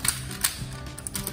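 Plastic parts of a jumbo Tobot Athlon Jingo transforming toy robot click and ratchet as the top section is loosened, giving a few close, quiet mechanical clicks and creaks.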